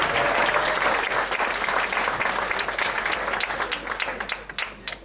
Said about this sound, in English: Applause, people.